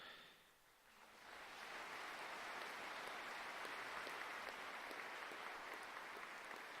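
Applause from a crowd inside a music track in a game of Europa Universalis IV, a broad steady wash of clapping that swells in after a moment and holds loud and even throughout.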